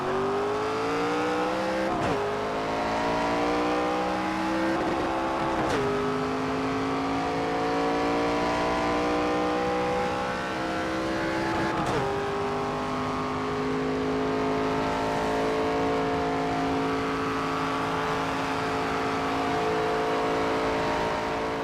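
A NASCAR 25 race car screams around Dover on a qualifying lap, engine pitch climbing steadily through gears with brief dips at each shift, loud and continuous throughout.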